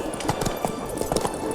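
Horse hooves clip-clop at a gallop in The Witcher 3, a rapid uneven patter of thuds mixed with game ambience, fairly close and steady throughout.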